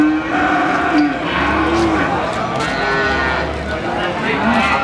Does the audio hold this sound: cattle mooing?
yes